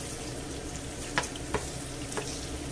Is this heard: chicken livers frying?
yes